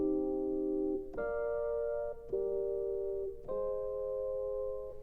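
A minor chord progression, 1, flat 7, 5, flat 6, played on an Ableton Push 2 as sustained synth chords, four changes in steady succession with no talking.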